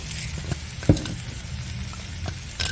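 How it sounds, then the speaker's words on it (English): Ground turkey and cabbage with spices and flaxseed being stirred in a hot skillet, a steady sizzle and frying hiss with a few soft scrapes and knocks of the utensil, close, no talk. "So you want to give that a good stir."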